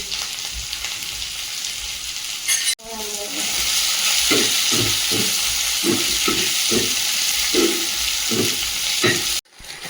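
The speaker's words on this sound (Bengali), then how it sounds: "এদিকে পেঁয়াজের বেরেস্তাটা ভেজে নিচ্ছি" Sliced onions deep-frying into crisp birista for mutton biryani, a loud, dense sizzle that cuts off briefly, returns with rhythmic stirring strokes and stops abruptly near the end.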